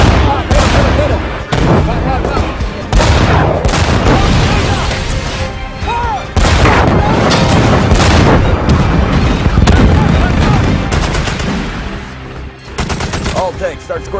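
Tank battle in the 2014 war movie Fury against an anti-tank gun: dense, loud gunfire and heavy explosions crash almost continuously, with shouting voices mixed in.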